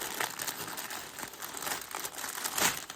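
Plastic packaging of an AliExpress diamond painting canvas kit by Huacan crinkles and rustles steadily as it is unwrapped up close, with a louder crackle near the end.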